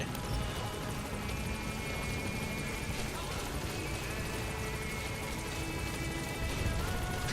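A support helicopter arrives in Metal Gear Solid V, its rotor a steady, moderately loud droning thrum that holds for several seconds amid other faint game sounds.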